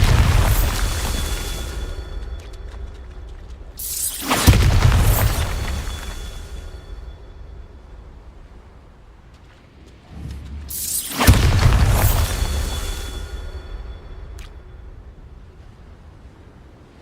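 Two heavy Bombarda spell explosions go off in Hogwarts Legacy, several seconds apart. Each is a loud, booming blast with a crackling burst, followed by a long rumbling decay that fades back to quiet background noise.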